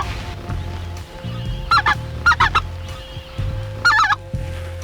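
Geese honking in short repeated bursts, several calls in quick pairs, over a steady low engine-like hum and faint rustling.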